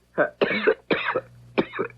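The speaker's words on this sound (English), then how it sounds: "How long have you had that cough?" Four harsh coughs in quick succession, close and fairly loud, with short pauses between bursts and no talking, in a radio mystery drama.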